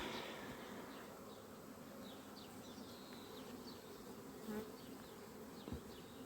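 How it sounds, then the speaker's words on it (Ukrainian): Honey bees buzz steadily throughout at a foam hive in spring, a dense swarm drone with pollen-laden bees zipping close by now and then. "ППУшничок працює бджолки з пилком йдуть"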